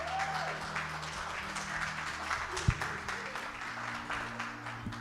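Welcoming applause for the band at a Sunday church service celebration, a steady crowd clapping heard at moderate distance with a low hum underneath.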